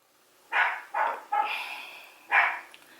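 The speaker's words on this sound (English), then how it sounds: "Can you please stop barking?" A small dog barks four times in short, sharp bursts, fairly close, with brief pauses between, the third bark drawn out a little longer.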